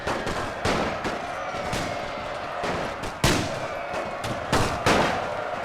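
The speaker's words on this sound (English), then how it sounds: "They're shooting everyone." Gunfire in The Great War, a World War I strategy game, a steady crackle of distant rifle fire punctuated by several loud sharp shots at irregular intervals.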